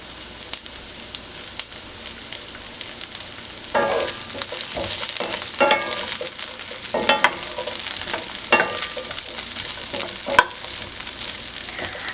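Onions go into a hot pan and fry, a close, steady sizzle broken by repeated louder stirring scrapes and bursts as they are tossed, with no voices.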